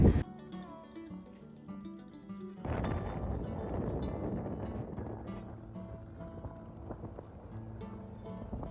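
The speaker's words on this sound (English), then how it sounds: "We're on the ferry boat." Steady low rumble of a ferry's engine in Turkey, with wind and water noise, a louder surge midway, no talking.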